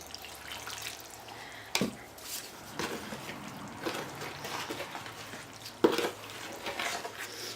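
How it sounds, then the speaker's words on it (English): Cement powder being mixed with water by hand, a wet stirring and sloshing texture running throughout with a couple of sharper knocks against the container. "I'm going to mix water to it."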